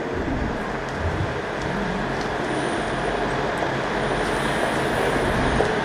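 A train pulls into station platform 2, a steady loud rumble of rolling wagons and rail noise that continues throughout with no talk.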